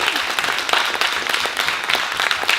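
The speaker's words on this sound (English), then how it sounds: "Please applaud this woman." Audience applauding a retired teacher and author of a children's arts book at a fundraiser, a steady wash of many hands clapping throughout, fairly close and even in level.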